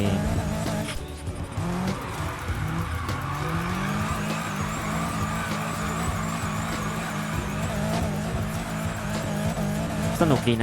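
A modded car drifts in Need for Speed Heat, its engine roaring and its tires squealing in long sustained skids, while a person talks over the game sound.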